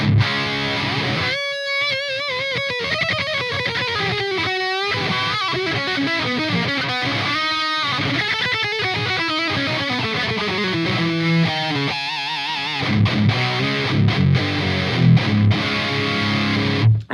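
A heavily distorted electric guitar, an ESP custom with a Seymour Duncan Distortion pickup played through an amp sim, plays a continuous, buzzing riff with sliding notes, loud and upfront, with no voices.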